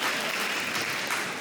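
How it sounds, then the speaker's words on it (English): Audience applause at a junior high school spring band concert, dense steady clapping filling the room at close range, no one speaking. "You can clap for yourselves."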